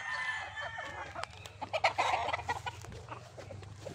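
Super Brown Red gamefowl chickens on a gamefarm cluck repeatedly and irregularly at close range, with a busier flurry of calls near the middle and no talking.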